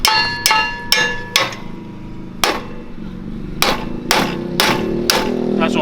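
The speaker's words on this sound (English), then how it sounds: "doing his usual hammer taps." Hammer tapping on a Predator 212 mini chopper, sharp metallic clanks in irregular bursts, some quick pairs and gaps, close and loud over faint background talk.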